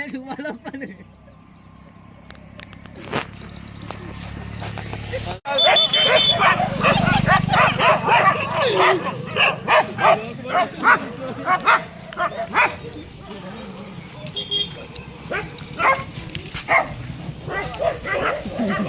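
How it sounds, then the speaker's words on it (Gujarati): A dog barks and yips repeatedly, fairly close, mixed in with people talking outdoors. "અમારા સાથે કૂતરું આવી ગયું છે"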